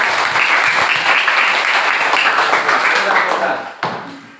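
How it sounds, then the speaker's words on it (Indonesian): Classroom applause for a group presentation, a dense burst of many hands clapping steadily and loudly for about four seconds, then cutting off sharply near the end. "Ya, tepuk tangan dulu, tepuk tangan dulu."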